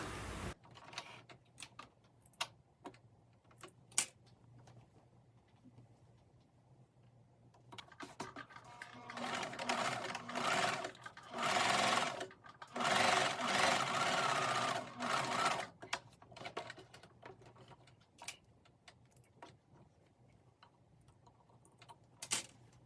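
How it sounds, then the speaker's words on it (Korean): Sewing machine top-stitching a skirt pocket seam, with quiet ticks at first, then a dense run of rapid stitching in the middle, then sparse clicks again, close and fairly soft with no voices. "주머니의 시접선을 주머니 쪽으로 젖혀서 주머니 쪽에서 탑 스티치를 해줍니다"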